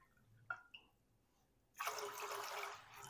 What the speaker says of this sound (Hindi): अब इस दाल में मैं 2 गिलास पानी डाल दूंगा।